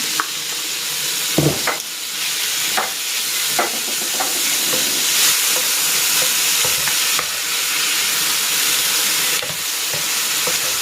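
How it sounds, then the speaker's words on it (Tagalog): Pork sautéing with bagoong alamang (shrimp paste) for Bicol-style pork binagoongan: a steady close sizzle with repeated spatula stirs and scrapes, and no talk. "Ilalagay ko na dito itong balaw. Ito yung bagoong alamang."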